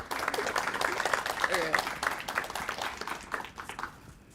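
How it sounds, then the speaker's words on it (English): An audience applauds at a literary magazine awards event, a dense wash of clapping that swells and then tapers off over a few seconds, with some speech mixed in. "give her a round of applause anyway"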